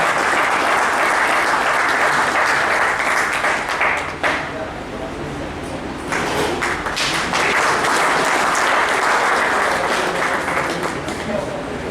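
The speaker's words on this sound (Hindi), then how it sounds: "जोरदार ताली बजाइए।" An audience at a 2023 wage agreement gathering breaks into loud, sustained applause that briefly dips and then swells again, with a voice speaking over it.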